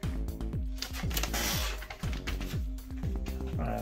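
Pokemon card packs being shuffled by hand, a rapid papery riffling with repeated flicks over steady background music.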